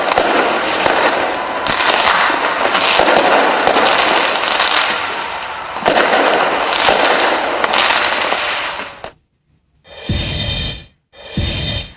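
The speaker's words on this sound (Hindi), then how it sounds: "न्यूजीलैंड के ऑकलैंड में आप देखिए कितनी शानदार आतिशबाजी की गई" New Year fireworks over Auckland, New Zealand, crackle and boom in dense continuous bursts, loud and close, then cut out briefly before two more short crackling bursts.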